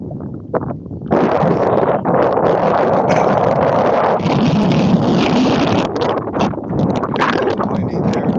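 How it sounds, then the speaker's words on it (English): Strong gusts of wind buffet the microphone, a loud roaring rush that rises and dips throughout. "Getting a little windy there."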